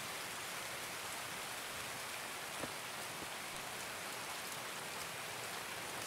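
Steady rainfall in the Escape from Tarkov video game, a soft, even hiss of drops on surfaces with no voices, fairly faint and unbroken throughout.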